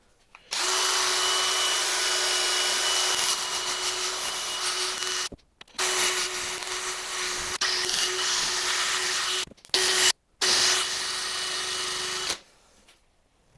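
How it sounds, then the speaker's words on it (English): A drill fitted with a buffing pad whirs against turned oak in long steady runs, stopping briefly between passes, with a rubbing hiss over a constant motor tone, close and loud. "I'm going to go and get a buffing pad on my drill"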